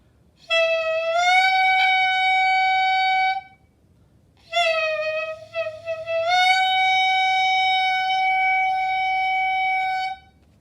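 Two sustained clarinet notes separated by a short pause: the first, with a loose embouchure, wavers and sounds looser; the second, with a tight embouchure, is steadier and more focused.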